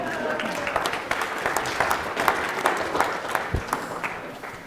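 A wedding reception crowd bursts into dense, sustained applause for the groom, close and loud, with scattered cheers mixed in.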